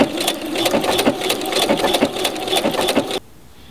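A sewing machine runs steadily along the edge of a curved fabric hem, its rapid rhythmic whirr close and loud for about three seconds before cutting off abruptly.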